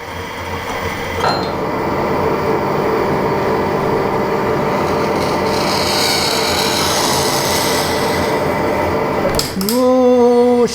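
Metal lathe cuts a 5 tpi tandem ACME tap, giving a steady close mechanical whir and hum that runs unbroken for about nine seconds, then stops abruptly and a rising motor tone follows at the end.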